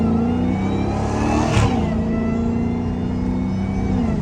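A Dodge Hellcat V8 with a mid-muffler delete drones loudly and steadily up close, its pitch swelling in one quick rev near the middle before settling back to a rough, sustained roar.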